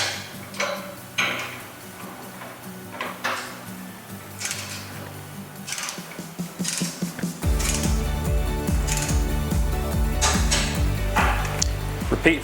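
Ratchet clicking as bolts are tightened on a roof light rail bracket of a Cat utility vehicle, bursts of quick ticking strokes at close range, growing denser and more metallic in the second half.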